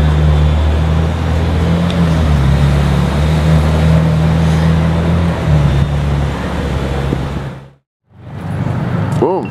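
A Ferrari Roma rumbles past on the street, its steady engine drone loud and close, then dropping away into a brief quiet before traffic noise returns.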